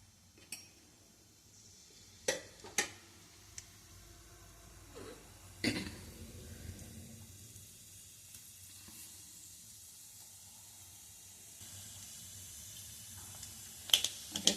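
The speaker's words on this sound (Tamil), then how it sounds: "போட்டு தாளிச்சிக்கலாம்" Whole spices (fennel, star anise, cinnamon, cloves, cardamom and bay leaf) are tempered in hot oil for goat trotter paya, with a soft low sizzle, a few sharp taps of the spoon and a cough.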